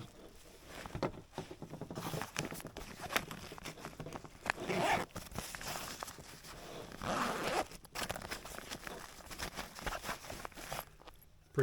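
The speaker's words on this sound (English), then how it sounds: "On the top we have 2 zippers." A backpack pocket zipper on a Mystery Ranch 2 Day Assault Pack being worked open in several close, scratchy zips, mixed with rustling and handling of the fabric, with no talk.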